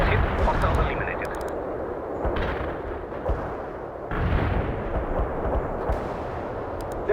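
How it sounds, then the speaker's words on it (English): Artillery barrage explosions in the video game World in Conflict, a continuous rumbling roar of blasts with repeated heavy bursts that swell around the second and fourth seconds. "A barrage hit the target."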